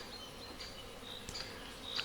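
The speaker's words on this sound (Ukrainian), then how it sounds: "Бо бджоли гудуть страшне. І щось це гучніше і гучніше." Wild bees swarm in a tree by a reservoir where people are fishing, giving a steady, dense buzzing drone throughout. It is fairly faint and even, with single insects passing closer now and then.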